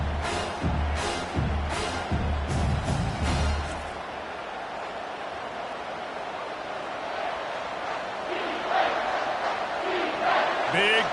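Stadium crowd at a Texas A&M vs South Carolina college football game in College Football 25 roars steadily behind the defense on a big third down, a sustained broad wash with brief bursts early, with a commentator talking over it.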